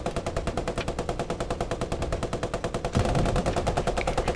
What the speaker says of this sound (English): It's fine, just keep shooting. Keep shooting.